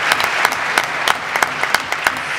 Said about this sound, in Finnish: annetaan vaikka aplodit kyllä